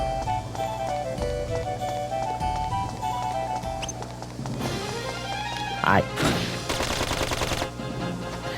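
The Nova Cannon fires in the Dark Cloud 2 video game, a series of loud blasts and rapid crackling bursts over game music and effects, with a sharp rising sweep near the end.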